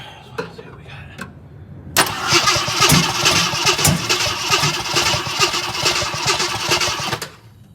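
A 1972 Pierre Cardin AMC Javelin cranks a few times with short starter bursts, then its engine catches and runs loud and rough for several seconds before shutting off abruptly.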